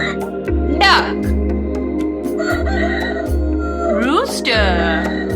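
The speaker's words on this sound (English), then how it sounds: "Rooster." A rooster crows twice among animal sounds in a children's animal-names setting, loud and close over a steady rhythmic music bed with a voice present.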